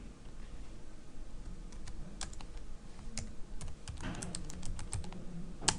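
Keys clack on a computer keyboard as ABAP code is typed, a steady run of close, crisp taps and clusters with no voice over them.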